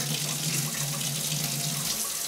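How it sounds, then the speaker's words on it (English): Warm water runs steadily from a faucet into a sink, used for washing oily drill bits; a continuous close hiss and splash with no talking. "I get my water running until it's pretty warm,"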